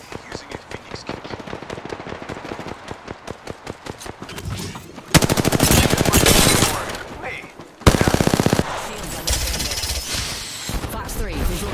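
Gunfire in Apex Legends: rapid automatic bursts, loud and close, with dense sustained volleys and clipped sharp cracks in a busy firefight.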